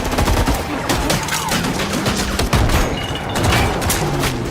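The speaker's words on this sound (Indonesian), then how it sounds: "suara tembakan menggema. Sekelompok gangster bersenjata baku tembak sengit" An armed gang trades intense gunfire in front of a house, a dense fusillade of sharp rapid shots and booming impacts, close and loud throughout.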